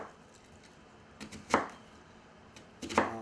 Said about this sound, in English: I'll do the other onion like that. Just cut these up and throw in there for stock to help flavor the soup.